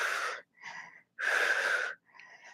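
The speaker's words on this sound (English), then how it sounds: "That was tough. You can tell by the breathing." Heavy, ragged breathing right after a HIIT yoga fusion workout for core and abs: four close, loud breaths with short pauses, two long strong ones alternating with two shorter, softer ones.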